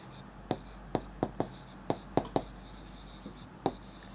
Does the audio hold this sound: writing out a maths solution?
yes